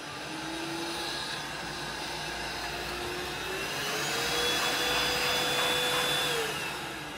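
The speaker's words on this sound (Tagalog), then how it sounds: "Yung pinaka-vacuum cleaner." A vacuum cleaner runs steadily with a droning whine and a rising pitch partway through, moderately loud and close indoors, with no talking over it.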